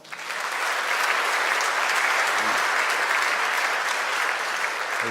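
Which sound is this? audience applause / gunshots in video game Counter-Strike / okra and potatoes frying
audience applause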